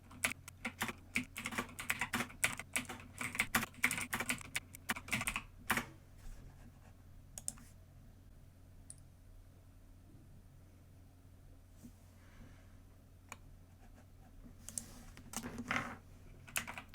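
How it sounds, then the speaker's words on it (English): Wallet recovery words being typed on a computer keyboard: bursts of close, rapid key clicks in the first six seconds, then sparse isolated taps over a quiet low hum, with a short flurry of keystrokes near the end. "it auto fills the words in for you, so you don't have to type the whole word."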